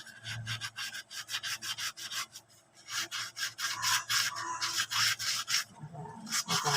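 A dirty stove burner is scrubbed by hand with a Scotch-Brite pad, making rapid, steady back-and-forth abrasive rubbing strokes that are close and fairly loud, with one short pause partway through and no talking.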